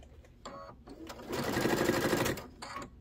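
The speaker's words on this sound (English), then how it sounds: "So I'm going to go ahead and backstitch that" A sewing machine backstitches on a quilted pouch project, with a steady motor whir lasting about a second and shorter stitching bursts before and after it.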